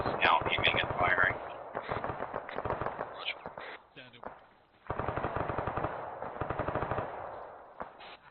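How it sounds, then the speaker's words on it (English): A grenade machine gun firing in a military video game, heard as rapid rhythmic bursts of thumping shots that pause briefly and then resume, with radio-style voices talking over parts of it. "Be advised that GMG is now aiming and firing."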